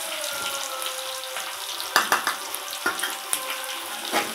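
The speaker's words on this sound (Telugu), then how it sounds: "ఇవన్నీ మంచిగా ఫ్రై అయ్యి, ఎండుమిరపకాయలు అయితే మంచిగా వేగాలి" Dried red chillies and green chillies frying in oil for a chickpea tempering, a steady close sizzle with several sharp crackling pops and stirring noises.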